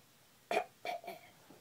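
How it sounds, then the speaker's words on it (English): A child fakes a cough while pretending to be sick to skip school: three short, forced, voiced coughing bursts, close and fairly quiet, spaced unevenly over under two seconds. "That's not a real cough."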